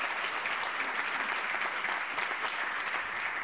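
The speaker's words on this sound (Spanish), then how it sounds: "Dale un aplauso al Señor." Steady applause from a church congregation, an even, dense patter of many hands clapping at moderate distance, unbroken for the full three and a half seconds.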